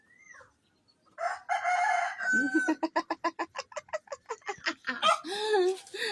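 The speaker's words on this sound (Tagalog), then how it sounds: "Mari, tingin sa manok." A rooster crows loudly up close, followed by rapid rhythmic clucking bursts and another crow, with a brief faint voice at the start.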